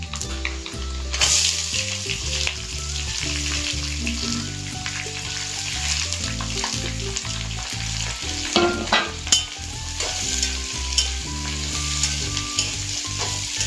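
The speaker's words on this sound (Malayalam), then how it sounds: "അരിഞ്ഞ് വെച്ച സവാളയും പച്ചമുളകും ഇട്ട് വഴറ്റിയെടുക്കുക." Chopped onions and green chillies sautéing in hot oil with grated coconut for a Kerala clam curry, a steady loud sizzle with a spatula scraping and stirring throughout and no voices.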